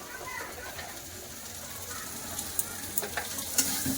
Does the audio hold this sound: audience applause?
no